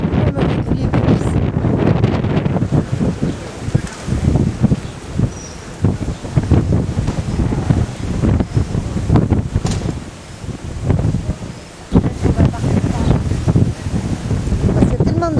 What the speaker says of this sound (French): Parce qu'il y a tellement de vent que j'ai même du mal à... Il me pousse le bras.